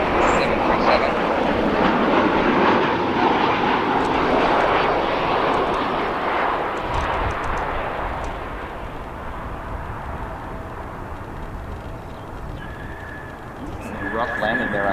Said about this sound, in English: The 737 landed just about 15 to 20 knots faster than a normal landing.